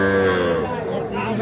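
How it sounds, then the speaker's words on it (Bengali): A local-breed bull calf at a rural cattle market gives a loud, close, drawn-out moo that fills the whole moment, with faint crowd murmur behind. "এটা কিন্তু দেশাল জাতের ষাঁড় বাচ্চা"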